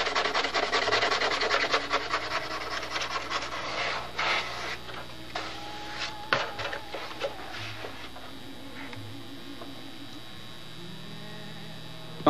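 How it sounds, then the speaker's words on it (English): Steady hand sanding on a balsa model airplane wing, a continuous rasping scrape with uneven strokes, fairly close, over a low background hum, then tapering off. "Now, with all the sanding done,"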